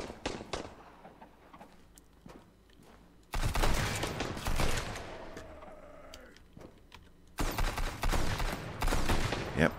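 Rapid bursts of gunfire ring out in the survival game Sunkenland, sharp clustered shots in loud volleys separated by a quieter stretch of scattered pops.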